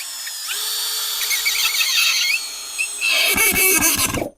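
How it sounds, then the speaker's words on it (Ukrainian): An ELTOS DA-16DFR BL brushless cordless screwdriver drives a long 90–100 mm screw into ash wood, with a whining motor and a squealing pitch that drops under load, then a final burst of clattering ratchet clicks as the screw seats. "Беру от шурупчик 90 чи 100 і спокійно, навіть на другу швидкість, заганяємо."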